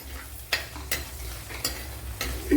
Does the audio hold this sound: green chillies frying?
yes